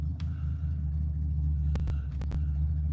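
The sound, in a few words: car being pulled off a trailer ramp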